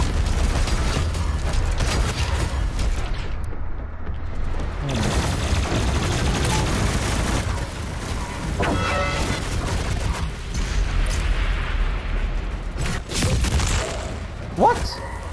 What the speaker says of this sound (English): Let's see if I can pack them with a rocket launcher